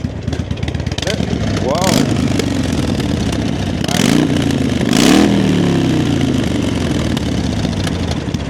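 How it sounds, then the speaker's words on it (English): Harley-Davidson Sportster 883 motorcycle idling close by, then revved three times in quick rising and falling bursts, loud and throaty, with a voice calling out briefly. "Just give it a rev."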